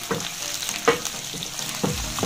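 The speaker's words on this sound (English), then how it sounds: "The aroma of the bell peppers frying is just amazing." Diced bell peppers and onions sizzle and crackle in a hot pan, with occasional scraping and stirring sounds cutting through the steady frying hiss.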